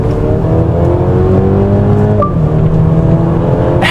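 Mercedes GLC with a 2-litre petrol mild-hybrid engine, a steady close engine note with harmonic revs that hold, shift down and settle, loud and alone without talk.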